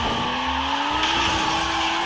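Car in the video game Reckless Getaway 2 turning and skidding, a steady engine drone with a rising whine and continuous tire squeal, loud and up close throughout.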